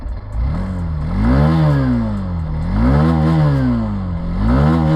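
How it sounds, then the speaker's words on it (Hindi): A Hero Xtreme 160 2V motorcycle engine revs repeatedly, close and loud, with three rising and falling throttle blips over a steady idle rumble and a faint mechanical clatter. "जैसे ही मैं ज़्यादा रेव कर रहा हूँ ना, मुझे यहाँ पर वाइब्रेशंस फील हो रहे हैं।"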